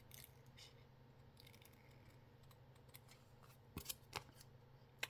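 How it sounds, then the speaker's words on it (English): Faint scissor snips and paper rustling, a few sharp crisp cuts near the end over a quiet room hum. "let me cut the corners again"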